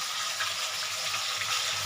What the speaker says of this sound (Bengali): তা মাছটা ভাজা হোক